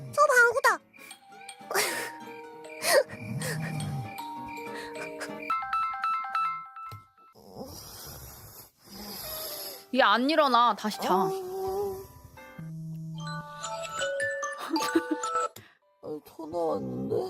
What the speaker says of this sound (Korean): 전화 왔는데